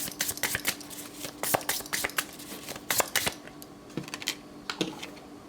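Tarot cards shuffle in quick, crisp riffling bursts, close by and fairly quiet, repeating in short flurries with brief pauses.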